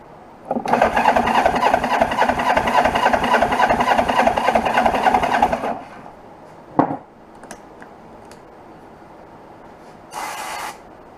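A 1980 Yamaha XS400 motorcycle engine, one spark plug disconnected, starts and chugs loudly with a rough, uneven pulsing rhythm for about five seconds, then cuts out, leaving a few faint knocks and a brief hiss.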